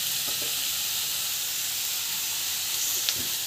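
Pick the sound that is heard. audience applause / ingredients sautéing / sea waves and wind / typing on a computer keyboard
ingredients sautéing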